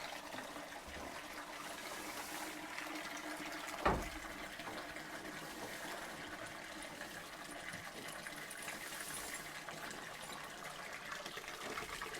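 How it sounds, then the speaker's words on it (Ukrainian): Water pours steadily into a container on a farm, a continuous splashing gush with one brief louder knock partway through, with no talking. "Зараз води ще наберу"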